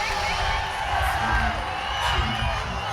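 A crowd at an elite CrossFit competition roars and cheers on an athlete, giving a steady, dense wall of shouting and whooping from start to finish.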